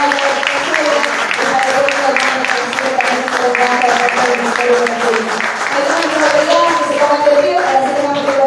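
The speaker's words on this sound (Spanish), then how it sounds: "Un aplauso para Manta, para este día" A large audience at a Manta port contract announcement bursts into dense, sustained applause that fills the whole stretch at full volume, with a voice carrying over the clapping.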